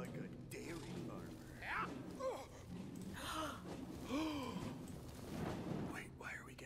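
Several short breathy gasps from characters in Tiny Tina's Wonderlands come in quick succession, soft and close, with quiet game sounds beneath.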